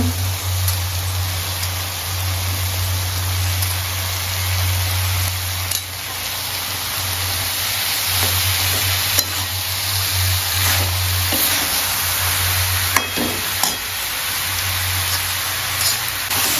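Boiled cabbage sizzles as it hits hot spiced oil in a pan, a steady, close crackle holding throughout with a low hum underneath and no talking.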